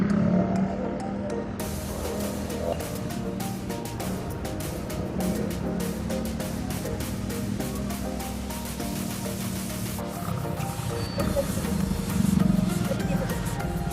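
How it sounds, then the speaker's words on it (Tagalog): Heavy road traffic around a Mio i 125 scooter on a test ride, a continuous engine drone and passing vehicle noise with a sharp onset near the start, a steady moderate level, and a faint voice at moments. "grabe traffic dito"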